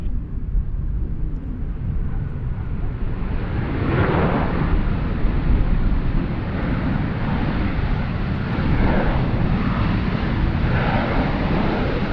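A jet airliner rumbles at Sydney Airport on runway 34 left, a loud, continuous broadband roar that swells slightly partway through.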